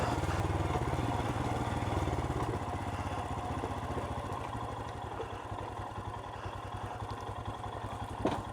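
A Royal Enfield Himalayan motorcycle engine runs steadily up close on an autumn adventure ride, a continuous low throbbing clatter that eases slightly in loudness partway through, with no talking.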